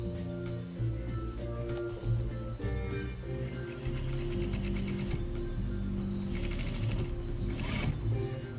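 A sewing machine runs steadily while sewing a welt seam on a pillow, a continuous mechanical whirring and clattering with tonal hum and rhythmic needle ticks, close and fairly quiet.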